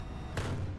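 A tank's main cannon fires in a multicrew tank combat video game, a single sharp boom rising out of low engine rumble and fading into a brief rolling tail.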